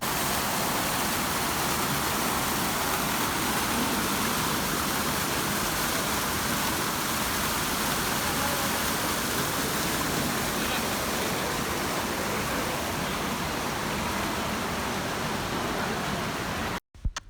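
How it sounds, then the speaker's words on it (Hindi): Water from a large indoor fountain at Al Ghurair Mall in Dubai splashes in a steady, loud, continuous rush, broken only by a sharp knock at the very end. "मैं आप लोगों को थोड़ा दिखाती हूँ विद पानी, इसके जो शोर है शराबा है वो किस तरह का था।"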